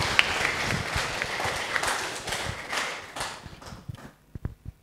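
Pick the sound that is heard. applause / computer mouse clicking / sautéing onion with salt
applause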